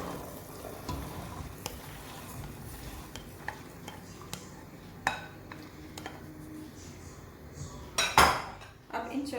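Chickpeas go into a pan of cooking spice masala for chana chaat, with metal spoon scrapes and clinks against the pan over a soft sizzle, ending in a louder clatter near the end.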